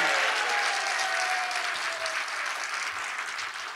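Dense crowd applause at a conservative Christian rally of church elders, loud and sustained throughout, a broad wash of many hands with a faint tonal line drifting underneath.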